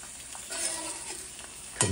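Food fries on a restored 100-year-old Wagner cast iron skillet over high heat, with a steady close sizzle and a louder burst of crackling at the end.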